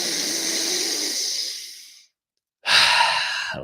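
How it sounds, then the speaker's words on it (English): Two deep, long breaths during a breathwork exercise: a drawn-out airy inhale-exhale fades to silence, then a second strong, close breath begins. "Go for 2 more breaths with me"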